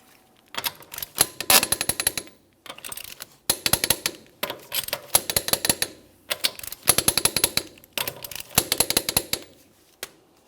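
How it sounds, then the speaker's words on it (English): Lug nuts on the rear wheel of a 2008-2017 Mitsubishi Lancer are torqued to 80 foot-pounds in a crisscross pattern, making close bursts of rapid ratcheting clicks, each burst followed by a short pause, with no speech. "I'm going to be torquing each one of my lug nuts in a crisscross manner to that 80 foot-pounds."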